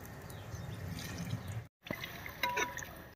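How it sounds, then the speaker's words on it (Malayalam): Water is poured into a cooking pot holding bones, giving a soft, close splashing and dripping that breaks off briefly, then resumes with a brighter trickle. "ഇനി എല്ല് വേകാൻ ആവശ്യമായ വെള്ളം നമുക്ക് ഒഴിച്ചു"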